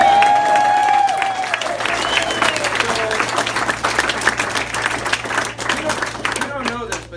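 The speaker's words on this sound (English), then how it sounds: "Can I start by having a big round of applause for Kyle and all the team?" An audience at a campaign meet-and-greet claps for Kyle and the team, applause building into a crowded patter of hands with a voice speaking over the start and clapping thinning out near the end.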